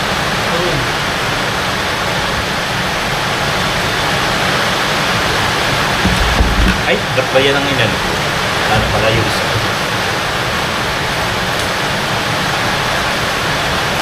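Heavy rain pours steadily in a dense, even hiss throughout, with a few people talking over it and a brief louder patch near the middle.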